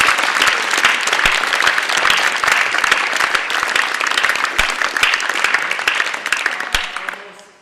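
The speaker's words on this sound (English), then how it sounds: "So can we give them a round of applause, please?" Loud, dense applause from an audience at an archery awards ceremony carries on steadily before tapering off at the close.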